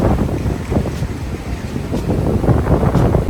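Strong wind buffets the microphone with loud, rumbling gusts throughout in Kaohsiung, Taiwan, no voices.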